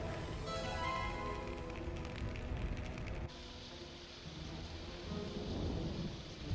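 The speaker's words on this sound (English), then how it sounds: "there's a steam geyser for you" A steam geyser in the video game Sphinx and the Cursed Mummy gives a loud, steady roaring hiss that carries on continuously, its texture shifting partway through, with no voices.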